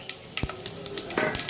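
Mustard seeds, cumin, fenugreek and dried chillies crackle in hot oil for sambar, with quick scattered pops and soft sizzling close by, no voices.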